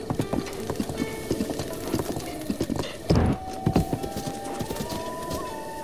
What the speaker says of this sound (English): It's really hard to get the horses to stop sometimes.